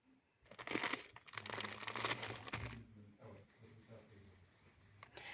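Close, loud crinkling of a plastic bag of toy stuffing for a few seconds, then softer rustling and handling.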